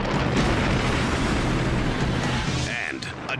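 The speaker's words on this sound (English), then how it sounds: "a fireworks factory explodes" A fireworks factory explodes in a dense, roaring blast of noise that fills the whole clip, followed by a few sharp crackles and pops as it fades slightly.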